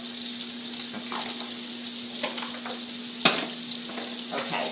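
Garlic and broccolini sauté in a pan with a steady hiss, while a few brief utensil clinks and one sharper scrape break through near the middle.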